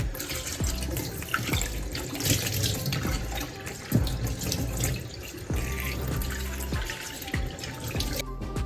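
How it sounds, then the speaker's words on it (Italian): A cap is rinsed under a running kitchen tap, the water splashing steadily into a sink with a few heavier gushes and drips as the fabric is moved through the stream, close and continuous with no talking. "Risciacquiamo sotto l'acqua corrente"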